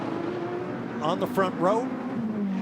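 GT race cars pulling away at the green flag of a GT America race in Nashville, their engines a steady, distant drone beneath a commentator talking over it.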